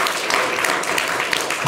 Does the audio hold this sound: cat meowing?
no